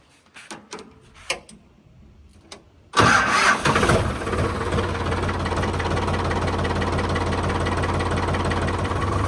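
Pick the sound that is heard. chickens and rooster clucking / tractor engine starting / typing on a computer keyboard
tractor engine starting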